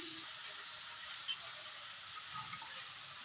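Tomatoes frying in a pan, a quiet steady sizzle with faint crackles and a soft stir near the end, close and low in level.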